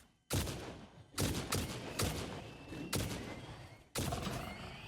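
Heavy weapon fire in the factory-building game Satisfactory: five loud, booming shots spaced about a second apart, each with a long rumbling tail and no talking.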